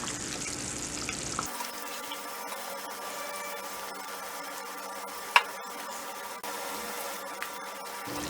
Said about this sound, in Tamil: இப್போ நம்ம மீன் சேர்க்கலாம்